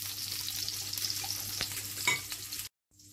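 Kebab bread rolls frying in oil in a pan make a steady, close sizzle with a few stirring scrapes, then cut off abruptly into near silence.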